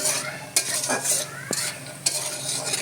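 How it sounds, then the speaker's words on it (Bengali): Grains fry in ghee in a pan for coconut naru, with a soft continuous sizzle. A spoon stirs and scrapes through them in occasional sharp clinks, and no one talks. "এই দানাগুলো আমি সম্পূর্ণ ঘি দিয়ে ভেজে নিলাম, হালকা আগে ঘি দিয়ে ভেজে নিলাম।"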